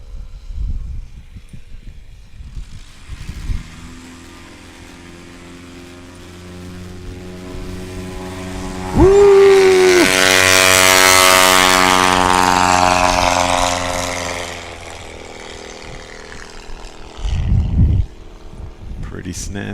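A STOL aircraft makes a short takeoff during Swamp STOL practice in Jennings, Louisiana: a propeller engine drones steadily, then surges into a loud full-power roar midway before easing off, with a commentator's voice heard faintly.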